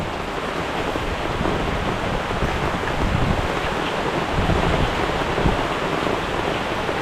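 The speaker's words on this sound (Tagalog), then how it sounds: "Nabot na tayo ng bagyo." Storm wind roars steadily with ocean surf churning beneath it, a dense, continuous wash of noise with low rumbling swells, no voices.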